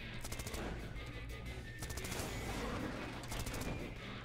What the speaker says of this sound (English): Okay, I'll shoot the minigun.